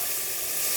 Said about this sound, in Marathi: आणि आत्ता टॉमॅटो टाकतो.